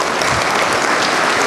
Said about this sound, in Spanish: Aplauso para Lucas